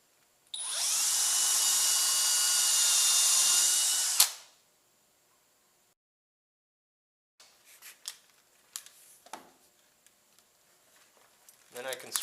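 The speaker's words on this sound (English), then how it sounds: "Pre-drill it with an 1/8 of an inch drill bit." A power drill bores a pilot hole into wood with a 1/8 inch bit, one loud steady whine lasting about four seconds, then silence followed by scattered clunks and handling noises.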